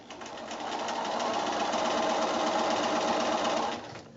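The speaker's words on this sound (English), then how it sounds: "I'm going to come back and sew my other 2 drawn lines." A sewing machine runs steadily through a quilt block along drawn lines, a close, even mechanical whir that starts, holds for about three seconds and then winds down, with no talking.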